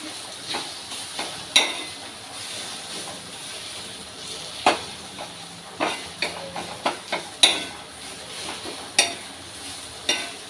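Steamed eggplant bharit being mixed in a pan, with a light sizzle under repeated sharp clinks and scrapes of the spoon against the pan, close and unhurried with no talking.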